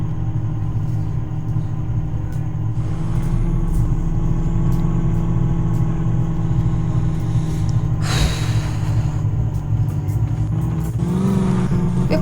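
Mahindra Scorpio being maneuvered into a parking space, with a steady engine idle hum and a few louder revs and movements, with no talk.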